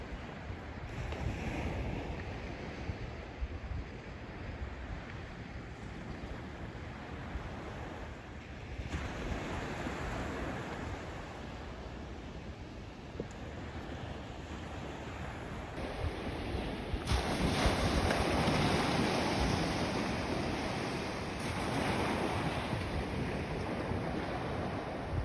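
Ocean waves and wind at a beach make a continuous loud roar of surf with gusting wind buffeting the microphone. The sound swells louder toward the end, with no talking.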